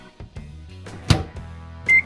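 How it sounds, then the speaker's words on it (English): A microwave oven warming chocolate chips in Ziploc bags, with a low hum, a few clunks and taps from the door and buttons, and a single sharp beep at the end. "Microwave different colors of chocolate chips in Ziploc bags for 15 seconds"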